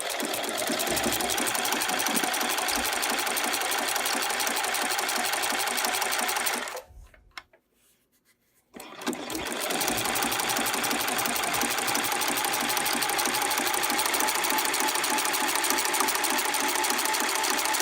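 A sewing machine zigzag-stitches over fold-over elastic, running fast and steady close by, stopping briefly for a second or two midway, then resuming its continuous whirring hum.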